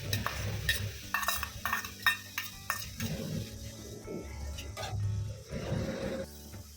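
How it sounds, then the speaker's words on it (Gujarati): Fresh fenugreek leaves sauté in hot ghee in a pan, a soft sizzle broken by scraping spoon-and-pan clinks and stirring strokes, fairly quiet and close, with no speech. "મિત્રો, મેથીને 1 થી 2 મિનિટ સુધી ઘીમાં સાંતળી લેશું"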